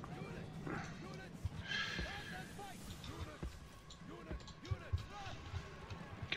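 Cavalry horses of horse archers moving in the battle game Total War Rome Remastered, with scattered hoof thuds and horse whinnies amid battle noise, while someone talks over it.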